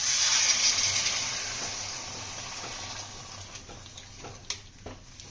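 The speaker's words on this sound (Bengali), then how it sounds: "আমরা জল দিয়ে দেবো, গরম জল।" Hot water pours into a pot of braised chicken kosha, a loud gushing rush that tapers off over a few seconds and ends in a couple of light clinks.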